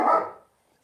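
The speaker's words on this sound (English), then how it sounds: "And that's her dog back there." A single short dog bark sounds from somewhere back in the room, clear at first and then fading out within half a second, with no talking over it.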